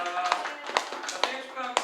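A few sharp, separate claps at a youth church service celebrating a birthday, spaced roughly half a second apart, with voices talking and murmuring throughout.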